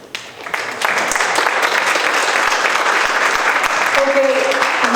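Sustained applause from a forum audience at a county commissioners candidates event, a dense steady wash of clapping rising after the first second and continuing to the end, with a brief voice entering near the close.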